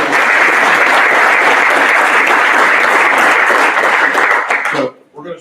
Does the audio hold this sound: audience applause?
yes